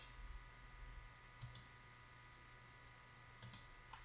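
Faint mouse clicks while formatting a paper in Google Docs: two quick pairs of small, sharp clicks about two seconds apart in a quiet room.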